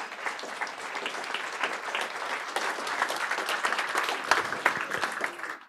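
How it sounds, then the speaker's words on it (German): An audience at a youth hackathon's final presentation event in Munich applauds, the clapping building slightly and staying lively with some sharp individual claps before tapering off. "Applaus für euch nochmal"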